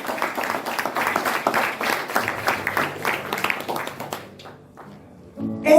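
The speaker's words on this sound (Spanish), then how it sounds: "Si le das ese aplauso al Señor" Church audience clapping for the Lord, a steady mass of claps that thins out and fades near the end, followed by a brief louder sound.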